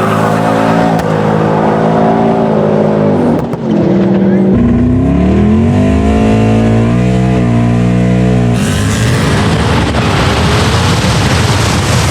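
A quad-turbo LS-swapped Audi S4 and a twin-turbo Ford F-150 race on a no-prep drag strip, their engines roaring loud and close and climbing in pitch through the gears in one continuous run, with crowd noise mixed in.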